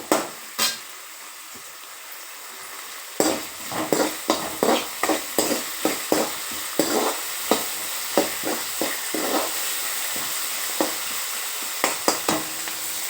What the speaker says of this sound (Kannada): ಹೆಚ್ಚಿಟ್ಟುಕೊಂಡಿರ್ತಕ್ಕಂಥ ಒಂದು 5-6 ಹಸಿಮೆಣಸಿಕಾಯಿ ಹೆಚ್ಚಿಟ್ಕೊಂಡಿರ್ತಕ್ಕಂಥದ್ದನ್ನು ಹಾಕಿ ಅದು ಮೆಣಸಿಕಾಯಿ ಕೆಂಪಗಾಗೋವರೆಗೆ ಅದನ್ನು ಬಾಡಿಸ್ಕೊತೀನಿ